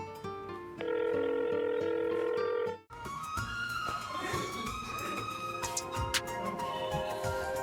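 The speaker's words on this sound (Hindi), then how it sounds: "ये किसका फोन आ गया?" A steady electronic phone tone sounds for about two seconds, then breaks off into a busy, layered jingle of melodic ringing that continues to the end.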